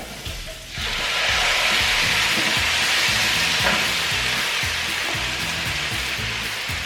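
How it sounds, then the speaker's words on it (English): Sauce poured into a pan of browned potatoes for a goat heart stew bursts into a loud, steady sizzle and simmer after a brief quieter start, with faint clinks underneath and no talking. "you're going to see how it starts to simmer"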